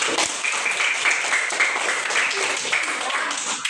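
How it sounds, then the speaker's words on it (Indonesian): A classroom of schoolchildren clapping together, a steady dense patter of many small hands that stays loud and even throughout, with some voices mixed into the noise. "tepuk tangan untuk semua dulu."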